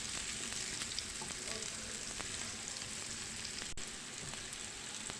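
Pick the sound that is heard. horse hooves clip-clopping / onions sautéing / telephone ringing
onions sautéing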